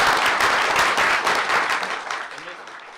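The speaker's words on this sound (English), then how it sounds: "Let's give her a round of applause." Attendees at a school board meeting give a round of applause, a loud burst of many hands clapping that gradually thins and fades, with voices mixed in beneath.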